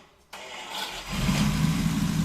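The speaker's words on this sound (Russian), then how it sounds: "Запускаем Вовин двигатель." A Unimog 404 engine fitted with two Solex carburetors cranks briefly, then catches and settles into a steady, close, mid-pitched running rumble that holds to the end.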